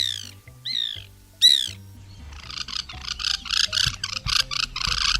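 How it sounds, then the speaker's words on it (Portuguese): White woodpeckers (Melanerpes candidus) give a few loud, clear, rising calls in quick succession, followed by a busier stretch of repeated harsh chattering notes, close and distinct over low background sound. "Uma delas é o pica-pau branco, muito chamado também de birro"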